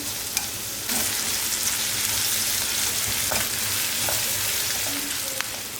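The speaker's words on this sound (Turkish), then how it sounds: "içerisine ilave edip şöyle birazcık soteleyeceğim. Maksat burada içerisinde çiğ kalmasın, hafif pişsin. 5 dakika kavurayım" Onions sizzle and crackle steadily in a hot frying pan for a gözleme filling, a dense continuous frying hiss with occasional pops and faint stirring scrapes, close up.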